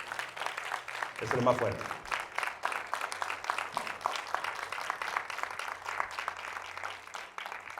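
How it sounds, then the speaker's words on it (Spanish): A congregation at a church service claps steadily in praise while a voice speaks loudly over the applause. "Denle un aplauso al Rey de Reyes."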